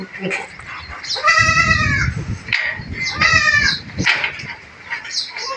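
Young goat kids on a goat farm bleat loudly and close by, two long wavering calls followed by fainter bleats, with other animal and pen noises around them.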